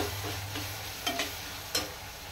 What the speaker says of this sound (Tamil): இது நல்லா வதங்கணும்.